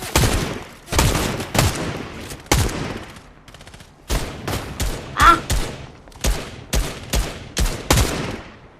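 Bursts of gunfire from the video game Fortnite fire in quick repeated volleys, sharp loud cracks in rhythmic groups separated by brief pauses, close and dominant.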